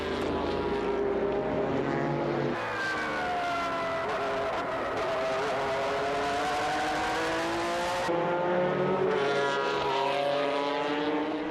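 GT race cars weighing over 1,100 kilos tear around the Fuji circuit at high speed, their engines a loud, continuous roar. The pitch climbs and falls as the cars shift gears and pass by in close succession.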